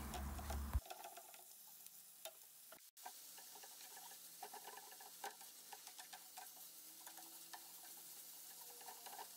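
Minced meat sautés in oil with onions in a pan, giving a quiet, steady sizzle broken by soft scraping and stirring clicks that repeat throughout, with no voices.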